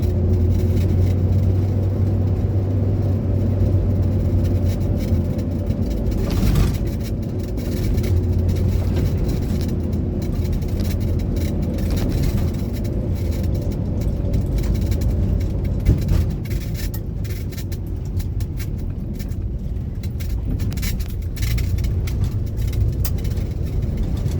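An unregistered Corvair drives along, its engine humming and whirring steadily with rough low rumble and brief dips in level as gears change and it accelerates, heard from inside the car without talk.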